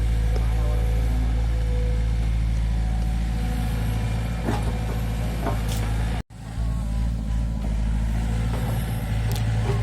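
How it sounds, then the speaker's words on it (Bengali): A road-digging machine works on a village road being turned from dirt to paved, a steady loud engine drone with heavy low rumble throughout, briefly cutting out near the middle before resuming. "এই মেশিন দিয়ে মূলত রাস্তাটা খোঁড়া হচ্ছে"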